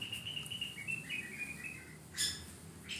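Small birds chirp and tweet inside an aviary, a few thin high calls and a short bright burst near the end, fairly faint over a soft background hush.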